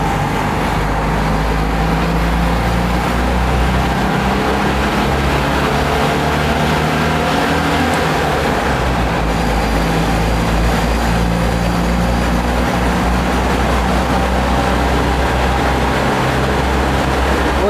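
A Citroën 2CV drives through a long road tunnel between Austria and Slovenia, its small engine droning loudly and steadily, with a heavy low rumble and a wash of road noise throughout.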